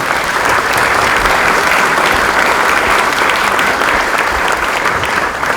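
Loud, sustained applause for former Prime Minister Lee Nak-yon at a meeting of newly elected National Assembly members, a thick continuous roar of many hands that holds steady throughout.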